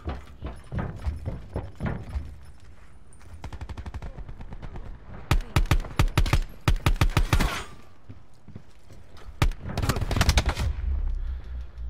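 Pistol fire in a Black Ops 4 gun game match, many rapid sharp shots in quick bursts with some separate single cracks, loud and close, and no talking.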